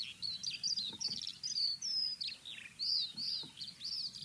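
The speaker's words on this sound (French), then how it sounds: "évidemment il respire tout en chantant, c'est l'alouette des champs." A Eurasian skylark pours out a continuous, rapid stream of high chirping and trilling notes, unbroken and steady, heard clearly over a quiet open-field background.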